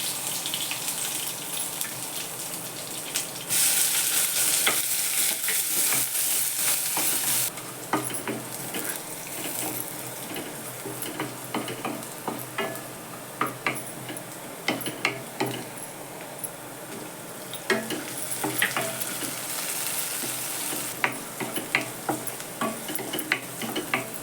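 Cumin, crushed garlic and curry leaves crackle in hot oil with mustard seeds for a Maharashtrian pigeon pea curry, a loud hissing burst at first, then settling into a busy sizzle punctuated by frequent spatter pops and clicks.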